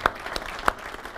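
An audience claps for Pastor Brad: a few sparse, fairly faint claps spread across a little over a second, with no talking over them.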